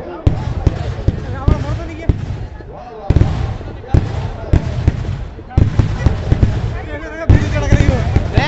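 Firecrackers burst repeatedly in sharp, loud pops and crackles at a Ravan Dahan Dussehra celebration in Jhansi, with crowd voices and chatter running underneath throughout.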